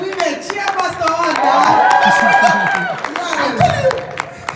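Congregation women cheering and clapping for a pastor at a church sermon on relationships, a loud mix of claps and raised voices that swells and then eases, with talk over it.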